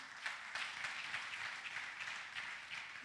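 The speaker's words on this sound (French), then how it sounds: "On peut acclamer pour le Seigneur." A church congregation at a communion service applauds and cheers for the Lord, a steady dense wash of clapping and crowd noise sustained throughout at moderate distance.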